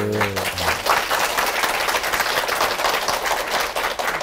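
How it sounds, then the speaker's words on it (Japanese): Enthusiastic audience applause greets the guest economist Heizo Takenaka at a live Japanese economics talk event. Steady, dense clapping fills the whole stretch, with a brief bit of voice at the very start. "めっちゃ拍手してる人が"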